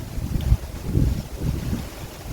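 A cold wind blows in gusty, rumbling waves across open farmland after the rice harvest, buffeting the microphone in low, uneven surges with no voices.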